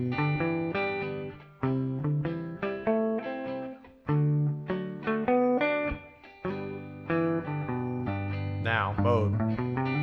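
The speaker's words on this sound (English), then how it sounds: "So pentatonic would sound like this." Overdriven electric guitar improvising pentatonic lines over a I-IV-V progression, with quick melodic phrases, a bent note near the end and steady loud sustain throughout, heard alone without talk.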